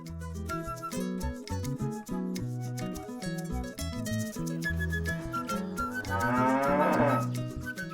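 Cows in a cowshed moo loudly and close, long drawn-out calls following one after another, with several animals overlapping and no talk.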